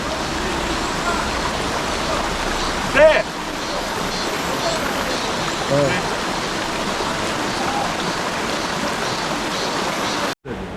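A mountain valley stream at Eolmgol valley rushes in a continuous broadband wash, steady and fairly near, with brief voices and small bumps breaking in now and then.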